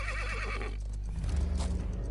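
A horse in the video game Realm Royale gives a loud, wavering whinny that lasts under a second, followed by a low rumbling, clip-clopping sound.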